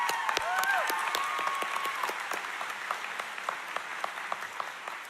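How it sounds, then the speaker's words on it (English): Applause at a summer graduation ceremony for a school superintendent, many hands clapping with distinct sharp claps and a whoop near the start, gradually thinning toward the end. "Let's have a round of applause for Superintendent Steve Watson."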